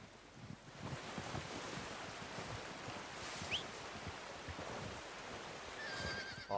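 A horse in Red Dead Redemption 2 gives a short whinny while wading slowly through water during a hunt, fairly faint against a steady wash of wind and water noise.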